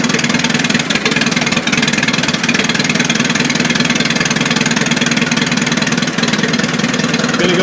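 An engine idles steadily and loudly up close, a continuous rough mechanical rumble with a faint regular pulse and no pauses.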